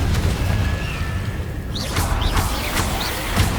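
Confringo fire blast spell in Hogwarts Legacy, a heavy booming explosion with whooshing bursts layered over busy game sound, with several short swishing effects in the second half.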